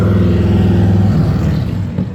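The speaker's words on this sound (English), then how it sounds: "Goddamn Esau and them loud ass motorcycles." Loud motorcycles roaring past outside, a dense low engine growl that stays strong throughout and eases slightly as they move on.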